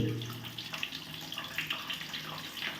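Water rushes in a steady, continuous stream as a toilet cistern fills, with a fairly quiet, even hiss throughout.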